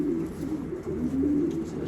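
A racing pigeon hen coos steadily in low, throaty rolls while held in a hand, close and continuous for a moment, with no talk.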